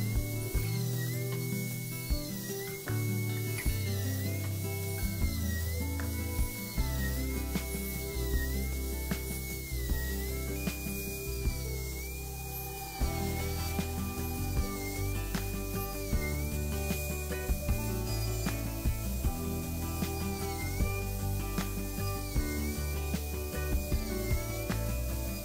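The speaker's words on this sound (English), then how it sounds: "I use the smallest drill bit available in the Dremel line to make my stitching holes with." A Dremel with its smallest drill bit pierces stitching holes in leather, making a thin, high motor whine that wavers in pitch while the bit works through, over a low steady background.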